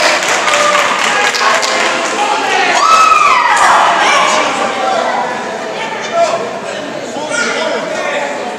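A lucha libre wrestling crowd applauds and cheers in a loud, continuous wash of clapping and noise, with an excited commentator talking over it.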